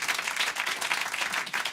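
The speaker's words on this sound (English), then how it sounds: "So give them a round of applause for that." A small studio audience claps for a rock band after a live lounge performance, steady dense applause sustained throughout at moderate, even loudness with no voices on top.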